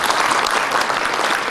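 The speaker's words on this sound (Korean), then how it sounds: "박수 한번 다시 한번 쳐주십시오" Dense, steady applause fills the room from an audience at a morning breakfast seminar hosted by the Global Future Forum with Seoul Mayor Oh Se-hoon as guest, a continuous close wash of clapping heard alone.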